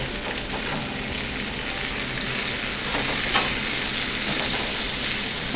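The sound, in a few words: broad beans sautéing in a pan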